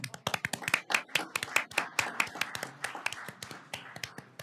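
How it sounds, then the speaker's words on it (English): A small group claps at a school district governing board meeting, a loose run of distinct sharp hand claps that thins out toward the end. "we can all clap, right?"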